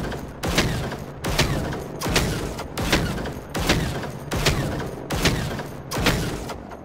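Eight loud, evenly spaced shots from the PVG-90 experimental gun in the video game Generation Zero, fired at a harvester machine, each a heavy booming report with a short decaying tail.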